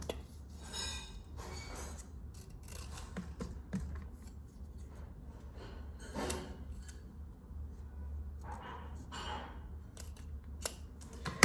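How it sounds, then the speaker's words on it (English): Scissors snipping through paper close by, a series of short crisp cuts arriving in uneven bursts over a low steady background hum. "Now I'll cut this out."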